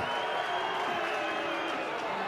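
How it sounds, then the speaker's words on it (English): A crowd at a 2014 NHRU Premier 1 rugby union elimination semi-final between Waratah and Merewether Carlton keeps up a steady, dense roar of cheering and shouting, heard from a distance and without a break. "The Greens crowd have found their voice all of a sudden."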